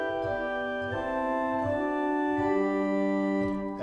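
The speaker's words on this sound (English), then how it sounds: "The positif has a 4 foot principal, which by itself sounds like this." A pipe organ's 4 foot principal stop on the positif division plays alone, a bright, clear sustained flue tone moving through a short melodic line, steady and close, with no talk.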